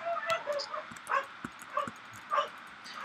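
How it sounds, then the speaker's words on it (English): Angry dog in a video game giving several short snarling, yelping bursts spread across a few seconds, close and moderately loud over a busy game soundscape. "Oh, the doggy getting angry."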